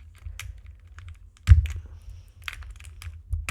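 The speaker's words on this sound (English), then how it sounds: "I'm gonna remove all of the keycaps and switches." Keycaps and switches being pulled from a GDK Labs NV-70 keyboard, a few close plastic clicks and snaps with short rattles between them, with a louder knock midway and another at the end.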